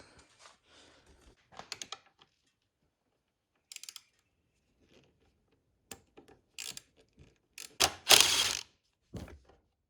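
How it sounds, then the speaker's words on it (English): Ratcheting screwdriver removing screws from a plastic cover on an ATV, heard as sparse clicking ratchet bursts and short scraping turns, separated by quiet gaps, close up with no talking. "So these are good screwdrivers because they have that in them, so you can put a ratchet on the end of them."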